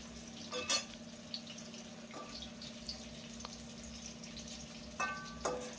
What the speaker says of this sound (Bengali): মিডিয়ামে রেখে এইভাবে ফুলকপিটাকে ভাজতে হবে।